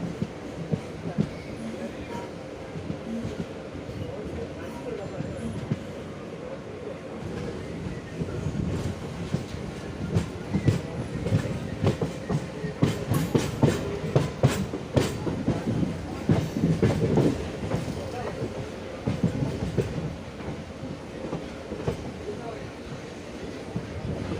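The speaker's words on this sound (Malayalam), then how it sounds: "ട്രെയിൻ ഓച്ചിറ സ്റ്റേഷനിലേക്ക് അടുത്തിരിക്കുന്നു." A train runs toward Ochira railway station on the Kollam–Kayamkulam line, a steady rolling rumble with clickety-clack of the wheels heard from on board, growing busier midway, with faint voices now and then.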